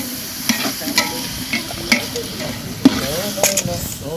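Tomatoes sauté in a hot pan of spiced base for home-style mutton biryani, a soft continuous sizzle broken by sharp, regular stirring scrapes and clinks of a spoon against the metal, close and fairly loud.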